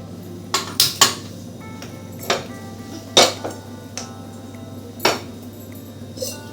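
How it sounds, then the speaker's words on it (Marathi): A metal kadhai is handled on a home kitchen counter while preparing a tempering for dal, giving sharp, scattered clanks and clinks of metal against metal and stone, about eight distinct knocks with quiet gaps between. "तर मी आता इथे एक कढई घेतली,"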